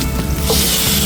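Garlic and red onions hit hot cooking oil in a frying pan, giving a brief, close, steady sizzle with a faint stirring scrape and no voices.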